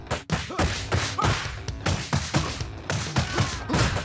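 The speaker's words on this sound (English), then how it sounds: "Everything from punches to kicks to smacking someone in the face with a baseball bat has a genuine sense of impact behind it" Video game combat effects of punches, kicks and baseball bat strikes to the face land as a rapid string of sharp whacks, thuds and swishes, loud and close, hitting about every half second.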